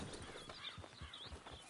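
Horse hooves clip-clop in a steady walking rhythm in Red Dead Redemption 2, soft and fairly close, with no voice over them.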